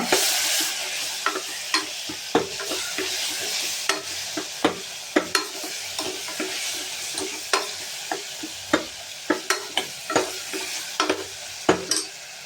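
A tomato mixture with chili powder is stirred and sautéed in a pan for tomato chettinad rice, giving steady sizzling frying with repeated sharp spoon scrapes and knocks at an uneven rhythm, close and unaccompanied by talk.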